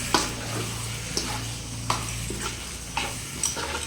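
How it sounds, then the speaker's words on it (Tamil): Chicken frying with masala in a pan for a simple chicken gravy: a steady, close sizzle broken by periodic scraping stir strokes, with no talking. "சிக்கன் நல்லா ஃப்ரை பண்ணிக்கலாம் ஃப்ரெண்ட்ஸ்"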